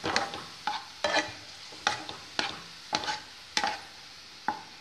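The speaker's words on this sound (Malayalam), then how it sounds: "എണ്ണയിൽ നിന്ന് കോരി എടുക്കുകയാണ്" Fried food is scooped from hot oil with a slotted spoon, making a series of about eight sharp scraping clinks at a steady rhythm over a faint background sizzle. The sound is close and no one talks.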